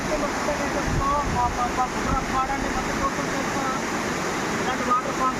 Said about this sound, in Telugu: పైన ఒకసారి ఫ్లో ఎలా పడుతుందో చూడండి ఫ్రెండ్స్